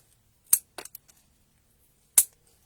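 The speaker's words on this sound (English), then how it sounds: "so we can trim some of those through." Scissors snip through a bunch of flower stems while a flower crown is finished, giving a few sharp close cuts: one crisp snip, a quick ragged cluster, then another single snip after a pause, with no talking.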